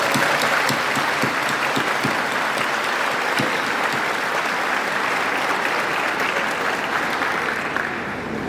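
Loud, sustained applause fills a council chamber after a formal address, a dense, even wash of many hands clapping with no speech over it.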